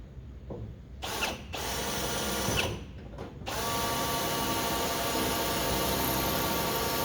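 A power drill with a dull, worn bit bores out spot welds on a car body, whining in short bursts at first and then running in one steady, sustained grind, close and moderately loud.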